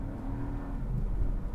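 A 2025 Buick Envista's small-displacement turbocharged three-cylinder engine pulls under acceleration, giving a brief, steady, low engine growl from inside the car with no talking.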